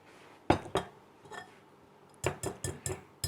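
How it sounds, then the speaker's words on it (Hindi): Fried chicken stirred into sauce in a kitchen pan, scattered metallic clinks and scrapes of a utensil against the pan in short irregular clusters, close and fairly faint, without talk. "अब इस चिकन को हम इस सॉस में मिक्स कर देंगे।"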